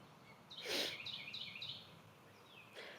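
Faint bird chirps and short whistled tweets repeat outdoors over a soft background hiss, with a brief louder rustle near the start.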